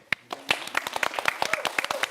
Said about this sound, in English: Can we please have a massive round of applause for our contestants?